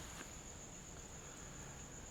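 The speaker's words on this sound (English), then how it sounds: "And then we end on crickets again." Crickets chirp as a faint, steady high trill over a low hiss of background noise, closing a modular synthesizer piece.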